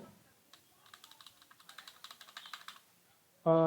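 Someone types a filename on a computer keyboard, a quick run of close, light key clicks growing slightly louder, followed by a sudden tonal sound at the very end.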